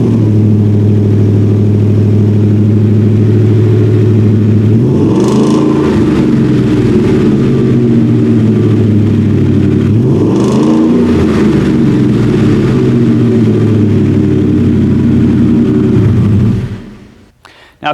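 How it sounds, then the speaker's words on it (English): 2019 Ford F-150 Black Widow pickup with a performance dual exhaust, loud close idle rumble interrupted by two sharp revs that swell and settle, the engine cutting off at the end. "I want to give you a little sound clip of what this exhaust is going to sound like."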